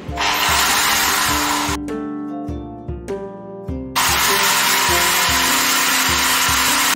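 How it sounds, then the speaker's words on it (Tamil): An electric drill whines at high speed boring into a wall, pauses briefly with a lower motor hum, then bores loudly again in a steady grinding drone. "நான் மார்க் பண்ண இடத்துல ட்ரில் பண்ண போறேன்"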